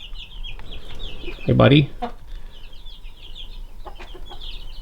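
A rooster and chicks of mixed ages cluck and chirp inside a homestead coop, with one loud, close cluck standing out over steady peeping, while someone briefly speaks.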